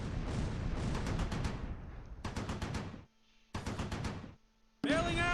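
Heavy booming mortar fire and explosions in the video game Close Combat IV roll in sustained bursts, separated by short quiet gaps, loud and close, with a whining sound near the end.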